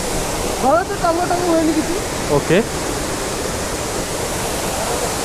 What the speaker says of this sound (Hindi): तो ये है कुछ हमारा झरना